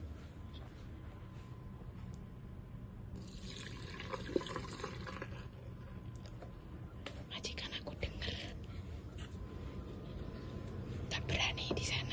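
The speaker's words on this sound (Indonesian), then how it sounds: "Kita buang dulu airnya ya teman-teman." Water being drained from soaked Indomie goreng instant noodles at midnight, heard as soft pouring and splashing in bursts, with hushed whispering running underneath.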